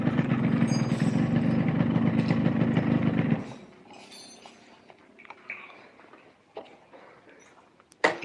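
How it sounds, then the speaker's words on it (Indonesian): A motorcycle engine runs close by with a loud, steady, rough drone for about three seconds, then cuts off, leaving faint scattered clicks and small handling noises. "Iki yo suaranya, Pak. Suara mesinnya."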